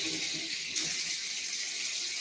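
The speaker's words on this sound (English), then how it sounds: "the first thing we need to do is wash our hands" Warm tap water runs steadily into a kitchen sink as hands are washed, a close, continuous hissing splash that briefly gushes louder.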